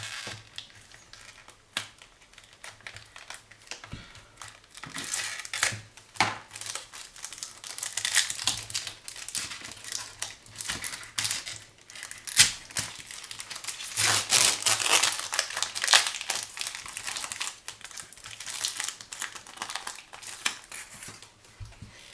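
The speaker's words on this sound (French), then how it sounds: "Enfin, évidemment, il faut ouvrir chaque fois les paquets." Crinkling and tearing of foil wrappers as 1996 Skybox Skymotion trading card packs are ripped open by hand, irregular bursts of rustling and crumpling at close range, with a faint steady hum underneath.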